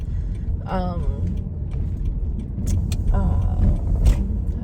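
Passing road traffic including a BMW, a Honda Civic or CRV and a Mercedes, a steady low rumble of cars going by outdoors with intermittent human voices over it.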